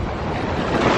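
Strong wind blowing steadily and loudly, buffeting close to the microphone with a low roar and no voices.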